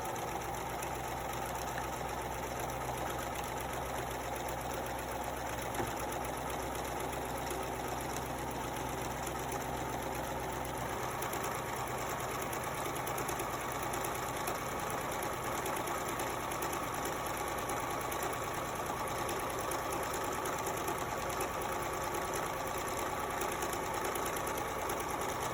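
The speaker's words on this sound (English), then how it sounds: "We're going to pivot, put the presser foot back down," Domestic sewing machine stitching a pillowcase, a steady rapid mechanical whir and needle chatter running continuously and evenly at low level, with no talk.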